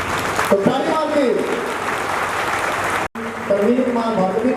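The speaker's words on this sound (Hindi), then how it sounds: "प्रवीण कुमार भार्गव की ताली मार के स्वागत करिए।" A crowd claps to welcome Praveen Kumar Bhargava at a public gathering, a loud, continuous patter of hands, while a voice rises over the clapping now and then.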